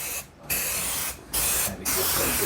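Adhesive sprays from an aerosol can onto the underside of the bonnet pad of a Mercedes W116: three loud, close hissing bursts separated by brief pauses, with no voices.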